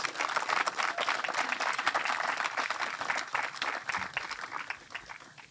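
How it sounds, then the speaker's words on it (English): A crowd applauding steadily at a high school graduation ceremony, dense clapping that holds for several seconds and then slowly tapers off at the end. "Let's give them a big round of applause"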